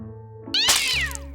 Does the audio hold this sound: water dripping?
no